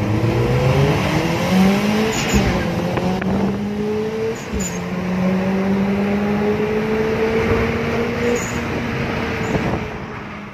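A loud modified car engine revs up and down in long rising and falling sweeps, close and sustained over about ten seconds, with no talk.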